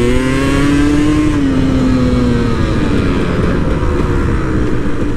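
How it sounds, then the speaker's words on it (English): KTM 300 EXC two-stroke dirt bike engine revving on a ride, a loud, close, continuous buzzing drone whose pitch rises, then dips and holds, with no talking. "As you can see, the power of the two-stroke, the power band"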